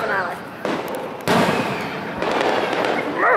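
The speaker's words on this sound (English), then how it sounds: "This is the fireworks before the grand finale." Fourth of July fireworks crackle and boom in quick succession before the grand finale, loud and layered, with a voice talking over them.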